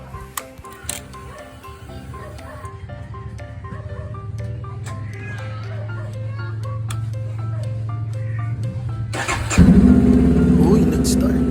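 Fresh from an oil change, a Honda CBR500R sits through a long stretch of light clicking and ticking, then its engine catches near the end and settles into a loud, steady idle close by.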